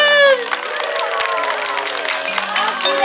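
An outdoor audience at a Relay for Life charity walk in Onomichi, Hiroshima breaks into clapping and cheering, a dense steady wash of applause with voices mixed in over lingering music.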